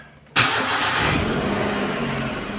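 A Hyundai Eon car engine jump-started from a power bank catches abruptly after a quiet moment and settles into a loud, steady close idle.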